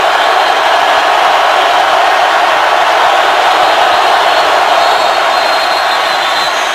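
Broadband stadium crowd roar at an NFL game between the Cincinnati Bengals and Seattle Seahawks, a steady loud wash of noise sustained throughout with no distinct peaks.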